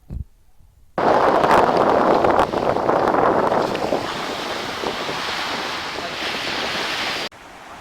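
Surf breaking on Seven Seas Beach in Fajardo, a loud broad wash of waves with heavy wind buffeting the microphone, starting abruptly and continuing steadily before cutting off near the end.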